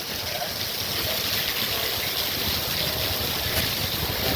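A waterfall pours continuously, a dense, even rushing roar of water heard close and fairly loud without any talk.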